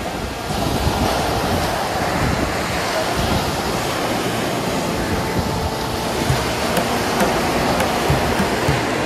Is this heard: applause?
no